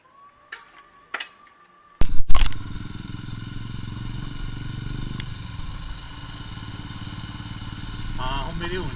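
A motorcycle engine starts with a couple of sharp clicks and a sudden loud catch, then keeps running in a steady, close rumble, with voices talking faintly over it.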